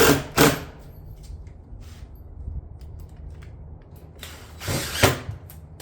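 Ridge vent is fastened onto a shingle roof with a few sharp, close bursts from a power fastening tool at the start and near the end, separated by quieter handling noise.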